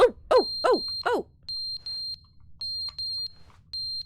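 A video-game smoke alarm sounding a series of short, bright electronic beeps in an irregular pattern. Several swooping chirps come just before it, and the alarm is fairly faint and comes with no talk.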